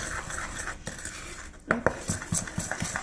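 Plaster powder being stirred with a metal tool in a container for a mosaic, giving soft scraping and a few clinking knocks, close and fairly quiet.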